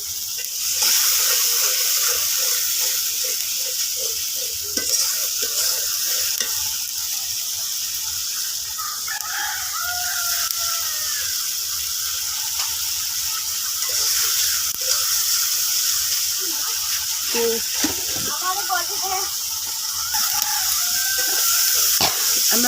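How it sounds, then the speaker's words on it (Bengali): Spice paste sautés in a kadai with a splash of water, giving a steady bright sizzle and hiss throughout. Faint stirring scrapes and clinks come and go under the frying. "মশলার ভিতরে আমি একটু পানি দিয়ে মশলাটা ভালো করে কষাই নেব"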